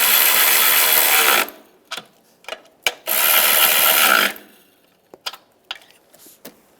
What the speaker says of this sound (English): Tighten the nuts up top.